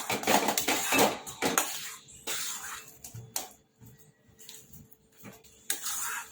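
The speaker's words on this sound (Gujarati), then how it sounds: "હવે બધું મિક્સ કરી લેવાનું છે, જેથી ગાંઠો ના પડે ને એવું આપણે બેટર બનાવી લેવાનું છે." A spoon stirs fine semolina batter in a metal pan on the stove, making irregular scraping and clattering bursts that are busy at first, then sparser with quiet gaps.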